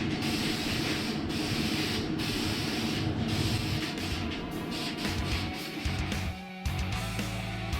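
Spray gun hisses steadily as high-temperature paint goes onto a scuffed, sanded engine bay of a Ford Fairmont, with continuous close spraying broken by short pauses and a final halt.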